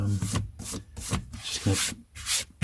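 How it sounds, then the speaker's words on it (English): A page of a vintage Penguin paperback being rubbed to clean off a mark, heard as close, dry back-and-forth scrubbing strokes in short rhythmic bursts with no voices. "if we continue rubbing, it's just going to"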